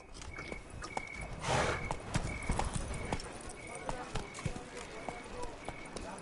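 Roach the horse gallops in The Witcher 3: Wild Hunt, Blood and Wine expansion on PS4, with steady rhythmic clip-clop hoofbeats up close, mixed with voices and game sounds and a brief louder rush partway through.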